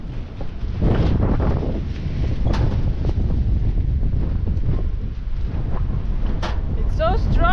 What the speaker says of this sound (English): It's so strong wind.